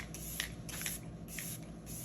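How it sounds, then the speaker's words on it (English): Three sharp, close hissing bursts of e.l.f. Stay All Night setting spray misted onto a face, evenly spaced with short pauses between, over a quiet room hum. "Next I'm going in with the e.l.f. Stay All Night setting spray."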